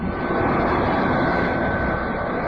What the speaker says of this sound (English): Robot plane slow to rendezvous with ship and hover.